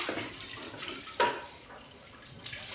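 Water pouring and splashing steadily in a village setting, a continuous broadband wash with one brief louder splash near the middle, moderately close and without voices.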